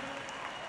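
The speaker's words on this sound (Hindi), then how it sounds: "एक बार जोरदार तालियां हो जाए आपके शहर के लिए।" An audience at a Dallas evening show claps in a dense, steady wash of applause throughout the brief moment.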